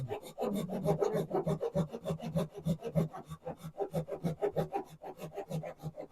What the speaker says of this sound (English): then take a flash cut saw